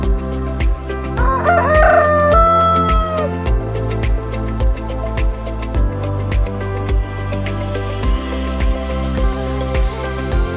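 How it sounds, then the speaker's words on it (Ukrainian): A rooster crows with a long rising-falling call near the start, over a steady rhythmic music bed that continues throughout. "Півні перекрикують один одного, встановлюють ієрархію, визначають кордони."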